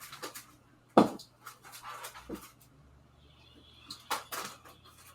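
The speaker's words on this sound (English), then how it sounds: "I have to lock the dog out, but if she starts barking, it's gonna be a problem." A dog pants and whimpers close by, with quick breathy bursts and soft whines between a few louder sharp sounds, in a quiet indoor room with no talking.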